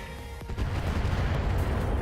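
Heavy airstrike blasts rumble through a Roguetech mech battle, a sharp impact near the half-second mark followed by a sustained low, loud roar of explosions.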